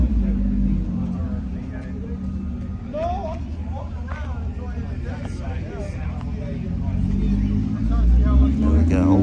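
A Mercedes-AMG GT S with a 4.0-litre V8 drives past, its deep engine rumble steady and swelling louder toward the end, with voices talking over it.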